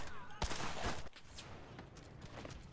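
Shotgun fire in the Enlisted war video game: a heavy, close blast and sharp cracks up front, then scattered battlefield gunfire trailing behind.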